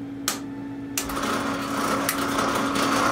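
A movie theater popcorn machine starts up and runs with a steady mechanical hum and whir, with a couple of sharp clicks from switches being flipped at the start.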